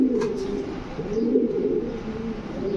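A male Danish pigeon coos steadily in its cage: a continuous, close, throaty rolling call with low rhythmic swells and no other sounds.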